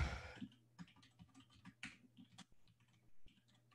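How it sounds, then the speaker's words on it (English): Rapid typing on a computer keyboard while entering terminal commands, with a steady run of light clicky keystrokes and a few heavier taps, close and clear with no talk. "Well, yeah, I'll just type it."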